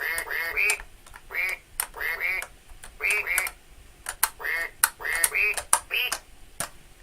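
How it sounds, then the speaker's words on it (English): Rhythmic duck quacks in quick bursts, close and clear, mixed with sharp clicks and taps during a live music session. "It sounds better in a quack, doesn't it?"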